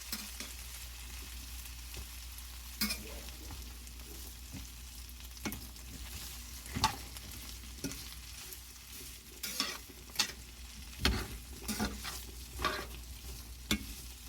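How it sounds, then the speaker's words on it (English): Potatoes sizzle steadily in hot oil in a cast-iron skillet, with scattered crackles and pops and occasional stirring scrapes throughout. "it is sizzling, so we're going to pour these in"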